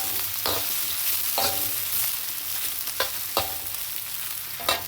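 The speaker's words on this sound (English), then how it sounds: "stir fry it." Maggi goreng noodles stir-fried over medium-high heat, a loud continuous sizzle broken by repeated scraping strokes of a utensil against the pan, close up with no talking.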